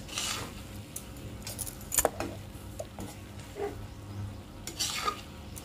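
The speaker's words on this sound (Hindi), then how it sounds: "टमाटर डाल के भी इसको थोड़ा सा भून लेंगे।" Tomatoes are stirred and fried in a pan, with a soft steady sizzle under repeated scraping strokes of a spoon against the metal, plus a few light clinks.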